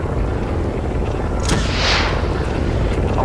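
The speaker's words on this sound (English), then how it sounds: "Rocket launcher." A rocket launcher fires in the Teardown video game: a sharp close whoosh followed by a loud rumbling blast that rolls on under constant heavy in-game noise, no talk.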